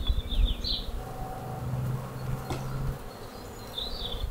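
Honeybees buzz around an opened, queenless hive, a low steady drone close by with individual bees passing, and faint birdsong chirping in the background.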